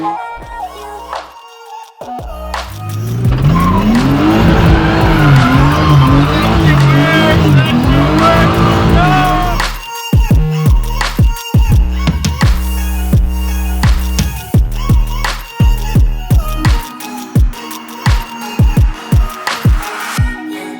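A BMW M3 driving, engine revving and rising through gears loudly up close, then a stretch of sharp intermittent clunks and bursts as it continues.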